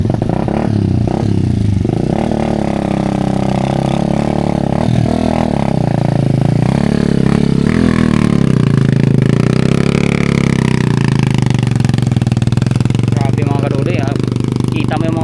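Habal-habal motorcycle engines rumble and rev loudly up close, bouncing and clattering over a rough trail in San Miguel, Dumalag, Capiz, with voices occasionally heard beneath the noise.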